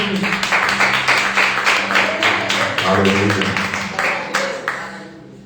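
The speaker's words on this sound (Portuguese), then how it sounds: "Aplaude Jesus" A church congregation clapping in a loud, steady rhythm during a service, with voices singing and calling out over the beat.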